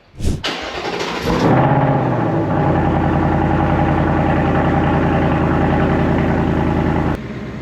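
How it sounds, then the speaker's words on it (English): Ford Mustang Dark Horse cold start: a starter whir, then the engine barks loudly to life and settles into a steady, deep, rumbling high idle, close and without talk. "Let's go ahead and hop in, get a cold start, and show you guys what this thing sounds like."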